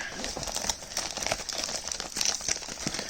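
Taped UPS cardboard packaging crinkles and crackles steadily up close as a Wirus Win shift knob for a Suzuki Carry DA63T is unboxed, with no voices.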